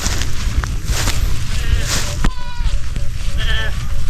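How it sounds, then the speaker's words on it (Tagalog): Goats grazing in a grassy farm field bleat several times, wavering calls over outdoor background noise and a person talking nearby. "Ito yung galaan ng mga kambing namin dito oh."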